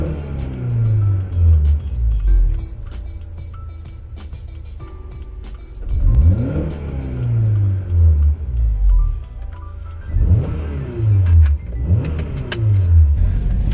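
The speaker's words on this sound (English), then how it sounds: "let's check out how quick it revs now." A Honda CL7 Type R engine fitted with a lightened flywheel blips up and drops back quickly several times, sharp close revs separated by idle, without talking.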